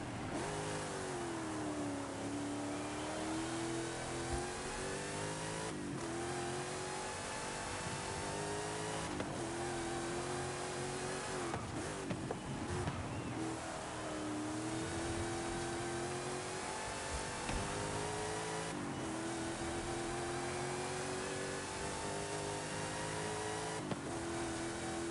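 A car engine in a racing video game driven with ABS switched off, a steady droning mid-pitched hum whose revs rise and dip through gear changes over a long continuous stretch, with no talking.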